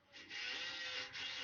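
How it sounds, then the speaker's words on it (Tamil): An 8 mm drill bit bores screw holes for fitting a toilet basin, giving a short, close burst of gritty grinding about a second long. "இது பார்த்திங்கன்னா 8 mm ட்ரில் பிட்டில் 2 பக்கமும் ஹோல்ஸ் போட்டுடுறோம்."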